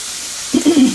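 Mushrooms and onions sauté in a pan with a soft, continuous frying hiss, and a voice briefly begins speaking over it partway through this very short moment.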